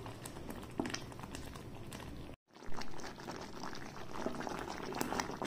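Semolina halwa cooking in a pan bubbles and spatters steadily up close, a dense continuous popping and plopping with a brief silent break in the middle.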